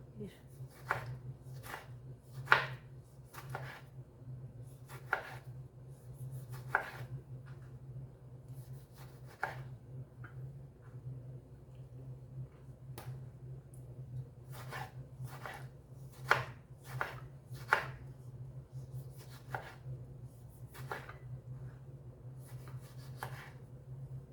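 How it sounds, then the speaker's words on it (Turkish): A knife chops tomato on a board in a home kitchen, preparing Turkish stuffed peppers. Steady, fairly close, irregular cuts repeat for the whole stretch with no voices. "Domatesimi şu şekilde e, kesiyorum arkadaşlar. Doğruyorum."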